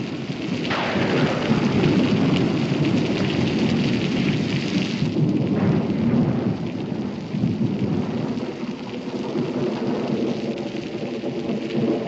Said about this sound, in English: Major Howerton doesn't want to get caught when the storm lets loose